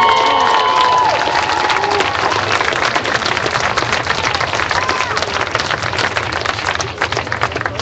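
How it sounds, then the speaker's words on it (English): A crowd at a Trayvon Martin rally in a Denver city park breaks into loud, dense applause with cheering voices, continuing steadily across the whole stretch outdoors. "Give a round of applause to Clarence Allen."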